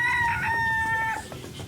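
Domestic chickens in a village cluck and a rooster crows nearby, a bright sustained call with a broken cackle trailing off at the end, heard alone without talk.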